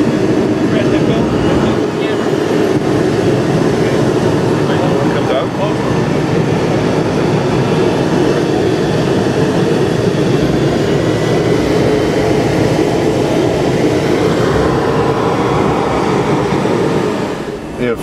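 A 1963 Chrysler Turbine Car's gas turbine engine holds a loud, steady roar for the whole stretch, a high whine riding over a broad rumble, with faint talk beneath.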